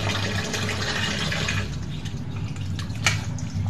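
Tap water running steadily while fish are washed, a continuous close splashing stream with a brief sharper splash near the end.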